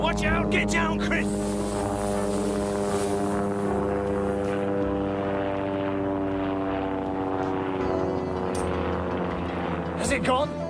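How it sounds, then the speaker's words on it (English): A helicopter in a radio drama scene passes overhead as a loud, steady droning rotor and engine roar that holds throughout, with brief voices at the start and end. "It's a helicopter! Watch out!"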